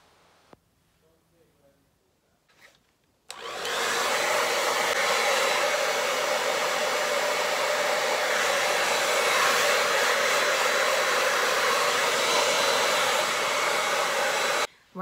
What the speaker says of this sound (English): When you're blow drying, try to move your head in a side-to-side motion rather than just flipping upside down.